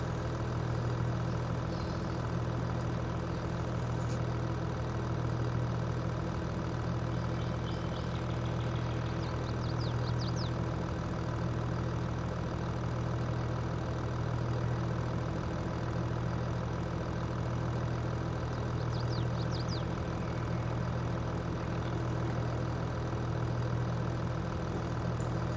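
A tractor engine idling in the farming video game Farming Simulator 22, a steady low drone with a constant hum that holds unchanged for the whole stretch, alone without talk.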